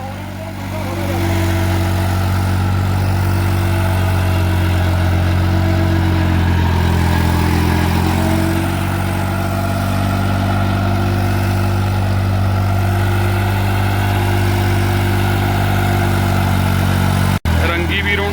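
A New Holland 3630 4x4 tractor engine idles with a steady, loud low-pitched drone that stays even throughout, ending with a brief sharp click.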